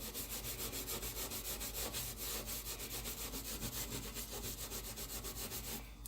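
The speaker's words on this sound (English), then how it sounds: "So we're just going to lightly scrub." A stainless steel stove top is lightly scrubbed with steady back-and-forth strokes, giving a continuous rhythmic rubbing close to the ear, with no voices.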